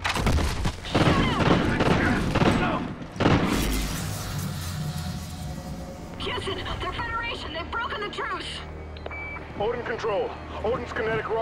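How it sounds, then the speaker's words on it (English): Gunfire in the video game Call of Duty: Ghosts, with bursts of shots and impacts mixed into a busy battle soundscape with electronic beeps, while voices talk over the action. "We are taking fire."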